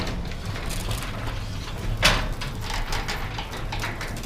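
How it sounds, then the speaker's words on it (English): A garage door rolls along its track on new nylon roller wheels, giving a steady, fairly quiet rumbling glide with one sharper clack midway and no talk. "The door still makes a little bit of noise because the door's kind of got some funky issues."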